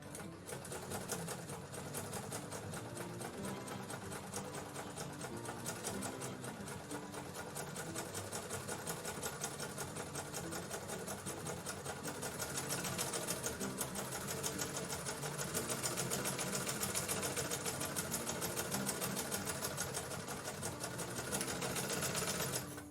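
A sewing machine stitches stretch fabric and tricoline together for a cloth Easter bunny rag doll, giving a close, continuous mechanical whir of rapid needle strokes that runs steadily and grows slightly louder toward the end.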